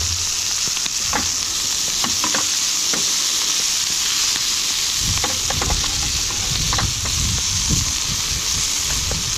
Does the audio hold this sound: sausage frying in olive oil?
yes